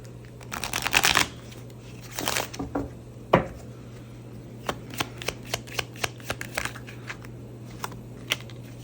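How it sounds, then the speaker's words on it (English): Tarot cards are shuffled close by in rustling riffles, followed by a run of crisp, evenly spaced snaps and taps as they are handled and laid down. "I'll shuffle."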